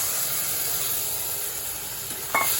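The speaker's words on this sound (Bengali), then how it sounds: "বেঁচে যাওয়া ডাল ভেজে দেব" Leftover dal frying in a pan gives a steady, close sizzle and hiss, and a light clink sounds near the end.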